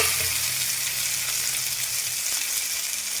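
Onions and tomatoes fry in a pan with a loud, constant sizzle that holds steady from start to finish; close up, with no talking.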